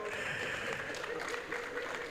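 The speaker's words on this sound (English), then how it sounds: "Please give NAIP a round of applause." An audience at an economic outlook and CEO forum applauds a panel, a short burst of dense, steady crowd clapping heard at moderate distance with some voices mixed in.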